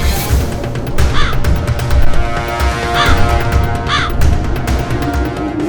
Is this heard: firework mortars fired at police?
no